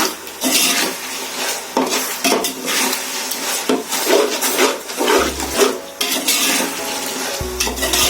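A metal spoon stirs 1.5 kg of turkey biryani in a cooking pot over a high flame, producing continuous scraping and clinking with irregular knocks against the pot's sides, close and loud.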